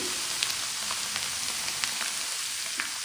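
Vegetables frying on a medium flame for a mixed vegetable pickle, a steady dense sizzle that keeps going throughout with a few faint crackles and pops on top.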